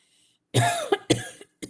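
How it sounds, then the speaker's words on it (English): A few sharp coughs close to the mic, a longer harsh one followed by two shorter bursts, then a final brief cough after a pause. "Sorry, I'm coughing during your confetti."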